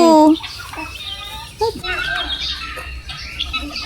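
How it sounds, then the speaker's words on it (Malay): A loud, harsh guinea fowl call bursts out at the start, then fades into a background of people talking and general outdoor bustle at a crocodile farm in Miri, Malaysia. "Itulah ayam mutiara tu."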